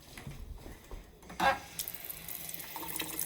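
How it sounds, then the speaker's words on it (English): A spoon rinsed under a running kitchen tap: a steady stream of water hisses into the sink, swelling briefly as the spoon passes through it, close and fairly quiet with no talking. "Let me rinse that off."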